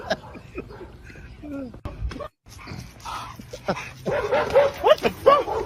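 A loose dog chasing a man barks and yips excitedly amid shouting voices, the yelps growing louder and more frequent toward the end.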